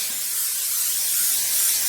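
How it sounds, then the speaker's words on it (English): A steady, close hiss of an aerosol cooking oil spray on baking pans held for about two seconds, then cutting off abruptly. "I'm going to spray down my pans."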